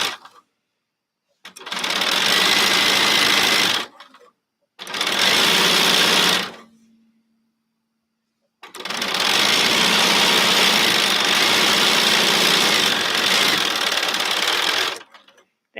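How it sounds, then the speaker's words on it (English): A sewing machine stitches a fabric seam for a quilt-along pattern block in three loud, steady runs, the first two short and the last long, separated by near-silent pauses, close up. "I have room to sew this seam"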